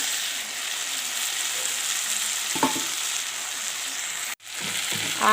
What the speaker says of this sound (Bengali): পনিরগুলো ঢেলে দিয়ে একটু কষাকষি করব